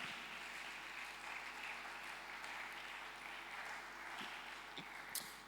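A congregation at a church service applauds the Lord, a steady broadband wash of many hands clapping at a distance, fairly faint and continuous for several seconds with no talk over it.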